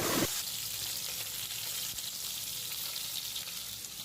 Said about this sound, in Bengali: কড়াইতে গরম করে তেল দিয়ে দিলাম, মাছগুলো ভালো করে ভেজে নিচ্ছি।